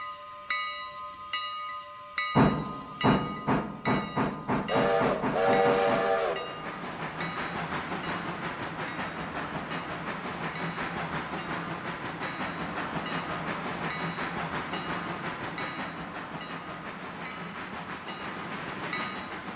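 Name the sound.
steam locomotive train running in Railroader video game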